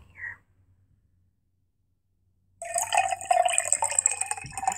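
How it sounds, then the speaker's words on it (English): Liquid is poured back into a container, a steady splashing trickle that starts abruptly after a quiet pause and runs on close by, with nobody talking. "Pour this back in here."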